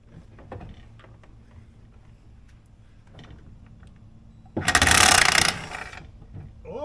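A wrench works loose a nut on a Polaris Indy 500 snowmobile: quiet clicks and taps, then a sudden loud grinding, ratcheting burst lasting about a second, close by.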